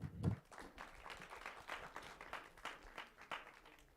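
Faint, scattered clapping from a small group at a student government senate meeting right after a motion carries, a brief burst of soft claps that thins out quickly.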